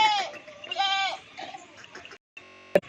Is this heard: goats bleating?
yes